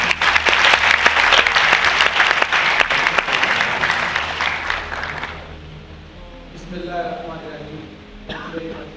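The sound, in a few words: audience applause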